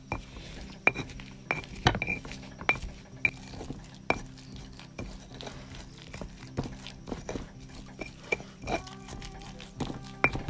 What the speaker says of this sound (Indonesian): Terus kita masukin bawang merah, bawang putih. Kita tumbuk pelan-pelan saja, jangan buru-buru.